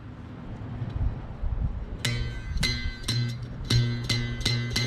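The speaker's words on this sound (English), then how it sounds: "So here's the sound of the bow all by itself." Mouth bow string plucked on its own, a few bright twanging notes with ringing overtones entering after a quiet stretch, moderately close amid low room noise.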